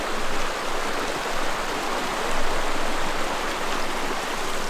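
A mountain stream rushes steadily through a high-country forest of big trees, a dense, even wash of flowing water heard up close with no voices.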